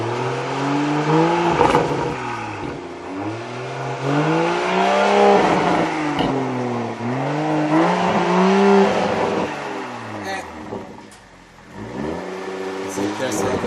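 A 2021 Toyota Supra A91 engine is revved repeatedly in a series of rising and falling blips, loud and close, with people talking between the revs.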